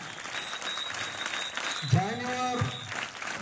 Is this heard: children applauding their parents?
yes